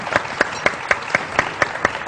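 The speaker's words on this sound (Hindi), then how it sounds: "तालियां होनी चाहिए," Audience applause on a Pakistani morning television show set, heard as a steady run of evenly spaced claps that keep a brisk rhythm throughout, fairly loud and close.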